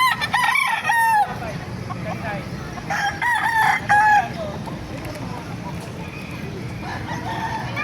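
Kanawayan roosters crow repeatedly at the Bocaue poultry market, several loud calls rising over a busy, noisy crowd and clucking fowl.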